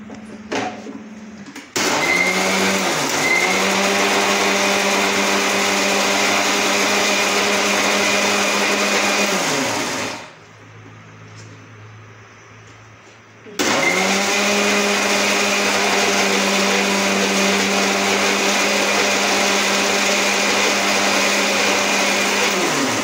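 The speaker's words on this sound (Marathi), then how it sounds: "हे मी मिक्सरला फिरून घेते" A mixer grinder blending dhokla batter whirs loudly in long bursts, stops for a few seconds, then starts again and runs steadily.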